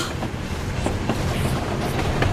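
A train rolling along the tracks in the James Bond Blood Stone game, a loud steady rumble with rhythmic clickety-clack of wheels and metallic clanks close by, no voices.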